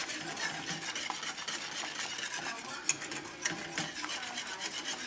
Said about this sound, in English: So allow this to simmer for a couple of minutes.